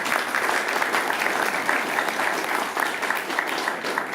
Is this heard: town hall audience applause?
yes